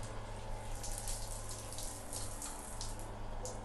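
Water running steadily from a tap at a newly plumbed sink, a continuous hissing splash with constant low rumble, fairly faint and with no talk.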